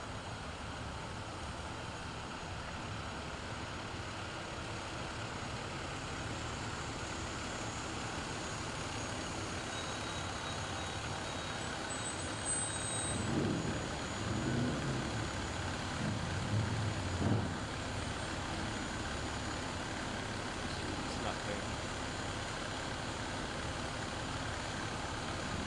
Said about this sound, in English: And this is the ladder truck from Burton Fire Rescue.